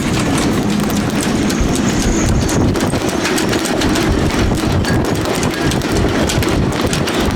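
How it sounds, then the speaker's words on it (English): Strong storm wind buffets a boat moored in a Mediterranean marina, a steady, loud roar of gusting air and microphone rumble that fills the whole stretch without a break. "it's because the wind is coming straight on the nose"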